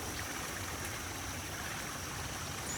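Water running through an opened gap in a beaver dam on grazing land, a constant, even rush of flowing water with a faint high whine above it, no talking.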